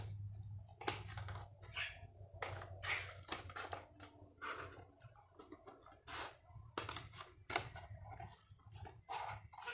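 Scissors snip through a milk carton in a series of short, crisp, irregular cuts, close and fairly quiet, with a low hum underneath.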